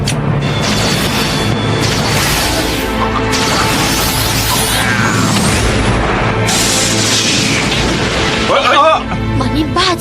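Weapon firing and explosions in Ultraman Dyna, loud booming blasts and crashes layered with continuous action noise, with voices speaking over it.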